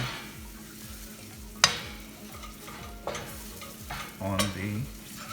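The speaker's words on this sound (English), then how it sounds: "Now you got to scramble this all together real fast so that eggs will get coated" Beaten eggs being scrambled quickly in a frying pan with onions for akuri masala, a quiet steady sizzle with scraping stirs and a few sharp utensil knocks against the pan.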